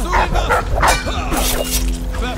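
A dog barks and yips in the video game Dishonored, with short loud barks close by and a voice briefly mixed in.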